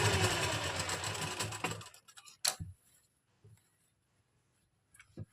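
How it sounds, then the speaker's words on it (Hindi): A sewing machine stitches a lined kameez in one steady, whirring run for about two seconds, then stops, followed by a few faint clicks and handling noises in near silence. "कि इसको भी हम सेम उसी तरह से सिलाई कर लेंगे।"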